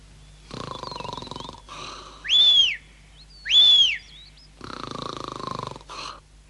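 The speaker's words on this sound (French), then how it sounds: "Il ronfle comme une vraie cheminée." A cartoon creature from the Moomins snores loudly in a cartoon scene: several drawn-out snores, two of them whistling and high-pitched, alternating with rumbling breaths, heard alone.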